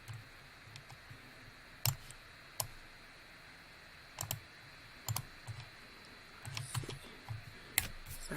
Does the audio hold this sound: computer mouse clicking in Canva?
yes